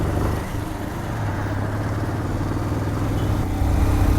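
A motorcycle rides along the road at the Goa entry checkpoint, its engine droning steadily and fairly close with a low rumble throughout, no voices heard.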